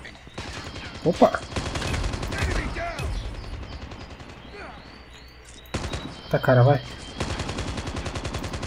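Rapid bursts of pistol gunfire in Call of Duty Mobile, several sharp shots in clusters, with someone talking briefly between them.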